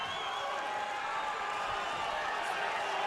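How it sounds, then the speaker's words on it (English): A crowd at the Forum roars in steady appreciation during the final seconds of a women's boxing match, a dense, even wash of distant voices and cheering that never breaks, with commentators talking over it. "You can hear the crowd at the Forum expressing their appreciation"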